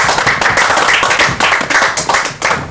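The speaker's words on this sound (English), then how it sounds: "So a big round of applause for alumni Tater." Studio audience claps loudly and steadily in welcome for a guest, a dense close burst of hands that pulses throughout with no speech over it.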